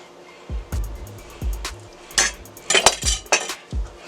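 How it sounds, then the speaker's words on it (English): A sharp knife cuts a pork tenderloin down the middle on a cutting board, producing several dull thumps and metallic clinks of blade against board in an irregular rhythm, close and fairly loud. "Got to get a sharp knife, and we're just going to cut it down the middle."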